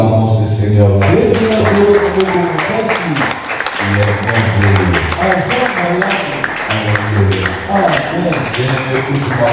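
Church congregation applauding the Lord at a Sunday service, loud sustained clapping over music and voices, continuing with brief dips throughout.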